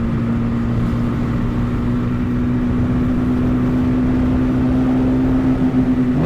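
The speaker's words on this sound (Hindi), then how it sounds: "जब मैं 7000 RPM क्रॉस करता हूँ, तो वो जो वॉइस नोट निकल रहा होता है, एग्जॉस्ट नोट" A Superstar 200cc motorcycle runs at high RPM, a steady, loud, droning exhaust note with a strong sustained tone and constant wind rush and no break.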